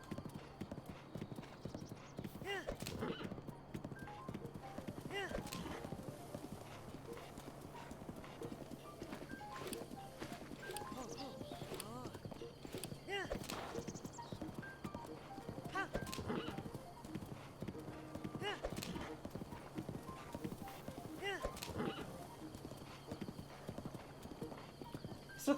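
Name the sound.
horse hooves galloping in a video game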